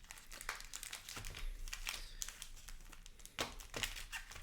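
Spider-Man collector box trading cards being shuffled by hand, a run of quick crinkly riffles and soft slaps in uneven bursts, close and fairly quiet, with no talking.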